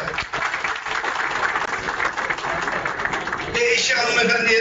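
An audience at a confederation founding event in Üsküdar, Istanbul, applauds an MP. The dense, sustained clapping of a crowd runs throughout and swells toward the end, with a voice speaking over it.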